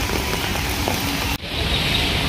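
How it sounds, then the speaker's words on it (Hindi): Heavy rain pouring down in Delhi, a dense, loud, continuous hiss of drops hitting surfaces nearby, briefly cut off for an instant before resuming just as strong. "फुल तगड़ी बारिश हो रही है।"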